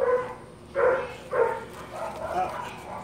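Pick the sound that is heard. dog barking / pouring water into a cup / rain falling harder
dog barking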